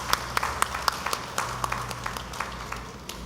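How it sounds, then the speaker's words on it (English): Scattered applause and a few sharp individual claps ring out at a Tobago political party's community event, thin and uneven, like a small crowd in a hall, over a low steady background hum. "Let's give a round of applause for youth, sport, community development."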